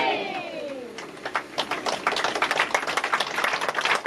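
A church congregation at a Sunday worship meeting claps by hand, a quick uneven patter of many hands building steadily, with crowd voices beneath it.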